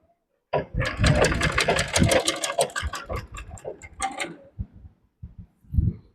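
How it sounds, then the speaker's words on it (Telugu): Sewing machine stitching fabric in quick bursts, a rapid rattling run of needle strokes that slows and breaks into a few separate clicks and short thumps after the main pass. "ఇగో దీనిపైన మళ్ళీ ఒక కుట్టు వేసుకోవాలి."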